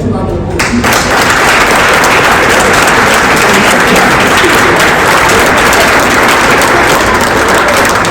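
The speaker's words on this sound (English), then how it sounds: "can we give our cadets a round of applause?" Sustained applause from a large crowd, dense steady clapping filling the whole stretch at high volume with no pauses.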